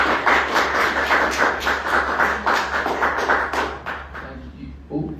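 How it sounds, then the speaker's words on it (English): An audience at a book presentation for a Morocco travel guide breaks into sustained clapping, loud and even for several seconds before it tapers off and a voice begins. "give them a round of applause"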